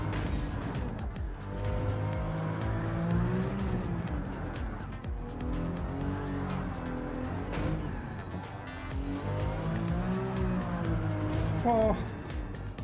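A Nissan Silvia S15 with a swapped 2JZ engine races the Nordschleife in Gran Turismo 7, its engine roaring loud and continuous, rising and falling through gear shifts and corners.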